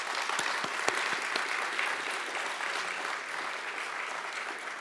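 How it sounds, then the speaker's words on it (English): Applause from a modest audience at a scientific symposium after talks, steady clapping with a few distinct sharp claps standing out, continuing evenly for several seconds. "so if we can give them a round of applause."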